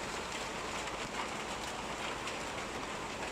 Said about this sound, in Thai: พอดีมาฮอดเฮือนพอดีฝนตกเนาะ